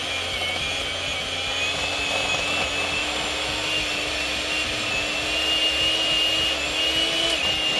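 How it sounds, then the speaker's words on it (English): A hand mixer creams butter and sugar for a berry Chantilly cake, whirring in a loud, steady, high motor whine that holds without a break from start to finish. "So I'm going to take a hand mixer."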